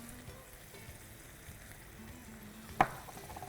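Chicken sautés in a pan with chilli, coriander and turmeric powders, giving a soft, faint, steady sizzle, with a single sharp utensil knock near the end.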